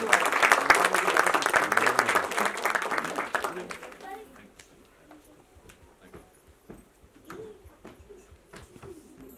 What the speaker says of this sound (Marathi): जोरदार टाळ्या सगळ्यांना.